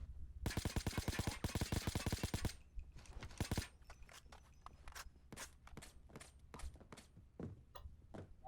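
Gunfire in a bank robbery video game: a loud, rapid automatic burst lasting about two seconds, followed by scattered single shots and thuds.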